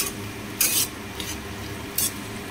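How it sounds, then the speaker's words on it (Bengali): Sliced onion fries with salt in a pan, giving a soft, even sizzle broken by a couple of sharp metallic scrapes from a spatula. "নুন দিয়ে আমি ভালো করে পেঁয়াজটাকে আরেকবার ভেজে নিচ্ছি।"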